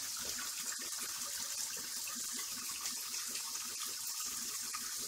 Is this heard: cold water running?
yes